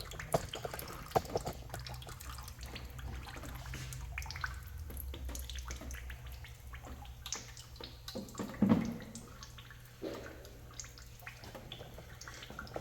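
Transmission fluid drains from a car into a nearly full transmission pan with a steady liquid trickle and splatter, plus scattered drips and small clanks, fairly close and with no voices.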